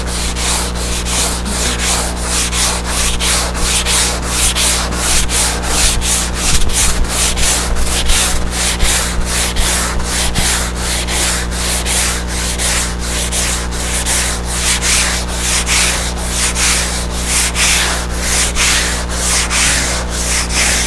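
Steady back-and-forth hand sanding with packing blocks used as sanding blocks, a rhythmic scratchy rasp repeating about twice a second, close and continuous with no talking.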